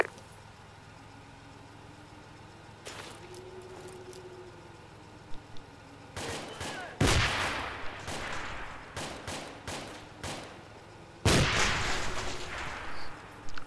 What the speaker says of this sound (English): Frag out, stay down.